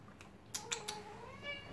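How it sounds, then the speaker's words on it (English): A domestic cat meows quietly indoors, a couple of soft drawn-out calls with faint tapping in the background. "This is my cat."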